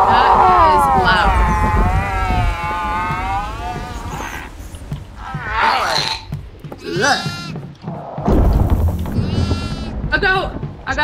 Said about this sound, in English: A goat! I got a goat.